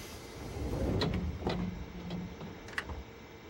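Train doors on a Yamanote Line train at track 2 closing in a train simulator video game: a low mechanical rumble with a few sharp clicks and thumps as the doors slide shut, fairly quiet throughout.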